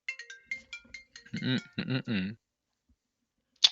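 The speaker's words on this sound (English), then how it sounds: "I love that ringtone" A short melodic electronic ringtone with a few repeated tones, followed by speech, then a brief bright chirp at the end.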